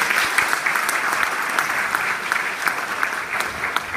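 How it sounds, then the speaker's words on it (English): Audience applause following a talent show performance at Inverell's Got Talent 2015 in Australia; dense, steady clapping from a sizeable crowd holds evenly for the whole stretch with no talk over it. "Can we have one more round of applause for her, please?"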